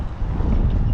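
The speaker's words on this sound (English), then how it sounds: "It's pretty windy out here," Loud wind buffeting the microphone outdoors at the Talladega racetrack in Alabama, a continuous low rumble with no other clear sounds.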